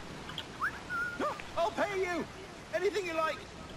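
The player character in Assassin's Creed 4 Black Flag whistles a few short sliding notes, moderately loud and close, with a faint outdoor background underneath.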